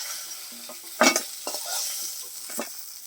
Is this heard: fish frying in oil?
yes